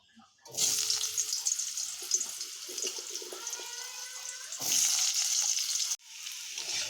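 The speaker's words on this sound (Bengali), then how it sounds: "এবার আমরা আলুগুলো হালকা করে ভেজে নেব" Potatoes frying lightly in hot oil in a wok give off a loud, steady hiss with faint clatter throughout, briefly cutting out near the end before resuming.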